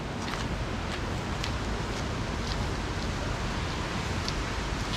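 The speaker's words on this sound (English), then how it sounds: "you guys can listen to the sound of the waterfall" A waterfall on Ko Samui, Thailand, rushes in a steady, dense wash of broadband noise that holds at an even level for the whole stretch, with no voices over it.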